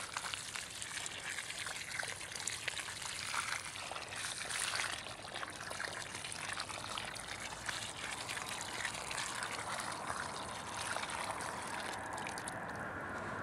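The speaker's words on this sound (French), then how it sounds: "on va simplement faire un bon arrosage et l'eau, simplement l'eau va tasser suffisamment le sol" Water pours steadily onto the soil around a newly planted tree, a continuous close gushing and trickling stream that holds even for the whole stretch, with no talking.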